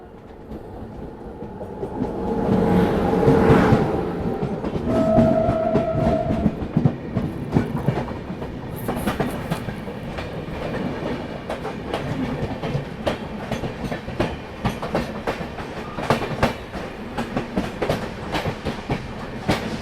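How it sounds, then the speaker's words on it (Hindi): The Mewar Express comes into the station with a rising rumble and rhythmic clickety-clack of wheels over rail joints, swelling loud early and then settling into steady, close track noise. "सामने से यहाँ पे मेवाड़ एक्सप्रेस जो है वो आ रही है"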